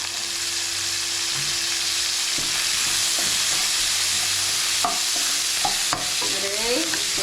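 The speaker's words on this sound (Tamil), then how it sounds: "எண்ணெய் நல்லா சூடாயிடுச்சு வெங்காயம் சேர்த்துக்கலாம் வெங்காயம் வதங்குறது" Onions sautéing in hot oil for a tamarind okra curry, a steady bright sizzle with scattered clicks and scrapes of stirring, close up and without talk.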